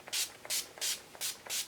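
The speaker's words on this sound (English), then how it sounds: "Now I'm going in with the Urban Decay setting spray" Urban Decay setting spray mists onto a face in five quick, close hissing bursts, evenly spaced with brief gaps, no voices.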